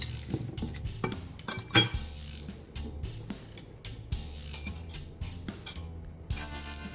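Seasoned potatoes with rosemary are tossed in a bowl, giving scattered clinks and scrapes of utensil against the dish. The knocks are irregular and fairly quiet, with one sharper clatter near the start.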